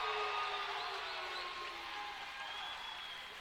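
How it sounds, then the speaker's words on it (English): Gymnasium crowd at a high school boys basketball district final cheers a made free throw, a steady broad roar that stays fairly even and slowly eases off, with no distinct voices standing out. "Much to the happiness of the Gideon crowd as they cheer that on."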